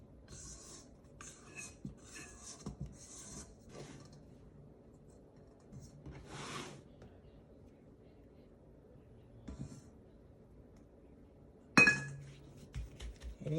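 Bread dough for cinnamon rolls is set into a prepared glass bowl. Soft handling noises and scattered glassy clinks lead up to one sharper ringing knock against the bowl near the end, in a quiet kitchen.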